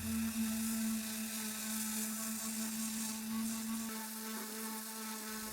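Steady, even whine from a power sander working an end table with 60 and 120 grit paper, holding a constant hum with a slight dip in pitch near the end.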